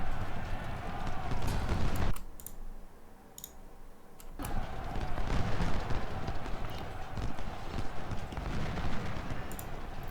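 Cavalry horses gallop in Ultimate General Civil War, a dense clatter of hoofbeats and clicking over broadband battle noise that briefly drops away before the rush resumes, continuous and fairly loud.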